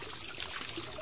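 Water from a hand pump trickles and splashes steadily during washing, a continuous soft hiss with no voices.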